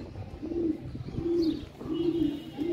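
Domestic flying pigeons coo in a steady rhythm, several low throaty calls repeating close by, with a faint whistle of movement between them and no talking.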